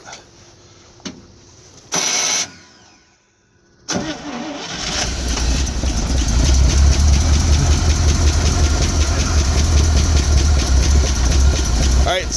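A 1974 International 1600 truck engine cranks with a couple of short bursts, catches on a cold start and settles into a loud, rough, deep-throated idle that builds and holds steady, with people talking briefly near the start.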